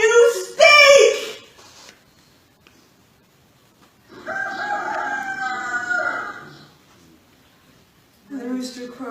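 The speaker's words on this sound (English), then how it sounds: "And the rooster crowed a second time." A rooster crows twice, loud and close, with a longer crow in the middle and a short burst at the end, separated by quiet gaps.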